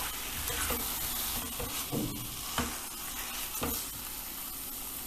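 Boiled eggs are tossed in sizzling biryani masala gravy, a dense steady sizzle close up, broken by a few scraping stirs and louder pops.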